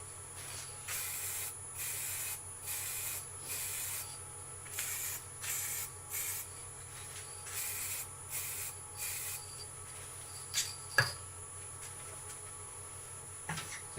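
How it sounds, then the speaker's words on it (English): A spray gun applies coats of gloss lacquer to rippled sycamore wood. It gives a steady series of short, hissing spray bursts in an even rhythm, followed by a few quieter knocks. "Now we're going to give this a couple of coats of gloss lacquer."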